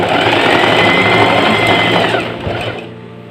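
Sewing machine stitching a traditional Kadazandusun garment, a loud, close, steady mechanical whir that slows and stops near the end.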